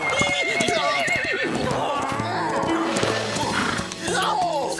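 A cartoon horse whinnies loudly amid clip-clopping hooves and other movement, with people talking over it throughout.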